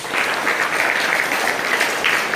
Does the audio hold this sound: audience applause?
yes